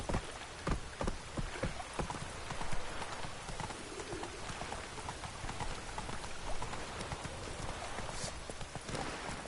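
Roach, the horse in The Witcher 3 video game, gallops with quick rhythmic hoof clip-clops over a steady hiss of rain, all quiet and without talk.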